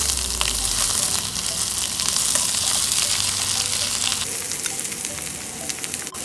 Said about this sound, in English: I am going to pop all my onions inside.